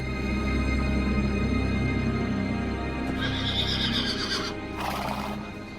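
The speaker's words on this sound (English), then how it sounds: "Only Alexander understood why the horse was in a panic." Bucephalus, a panicked stallion, whinnies sharply with the clatter of hooves, loud and close, over a constant background drone.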